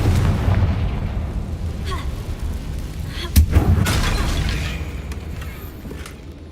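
A Confringo blasting curse in Hogwarts Legacy fires at a damaged bridge, giving a single sharp burst followed by a short rumbling explosion over a steady ambient background.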